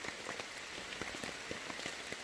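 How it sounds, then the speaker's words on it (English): Steady rain falling outside a front porch during a camping trip on the Black Forest Loop Trail, a dense continuous patter with scattered louder drips and drops throughout, no talking. "Did I mention it's raining? It's raining."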